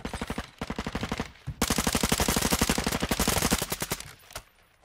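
Rapid automatic gunfire from the Warzone video game rattles in dense, evenly spaced bursts, close and loud, with a short pause before a longer continuous volley that trails off.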